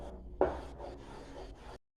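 Mango jam is stirred in a non-stick pan, producing a soft, close scraping rub from a single stroke that lasts under two seconds before stopping.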